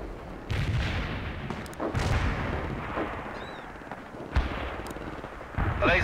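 Artillery fire in the World in Conflict video game, a dense barrage of booming blasts and rumbling impacts at roughly two-second intervals over continuous battlefield noise, with a few sharper cracks near the end.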